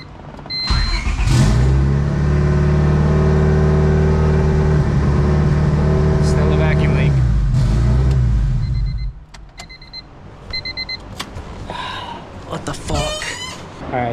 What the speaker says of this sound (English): This will probably be the last start for the night because it's getting late and obviously this car is open downpipe.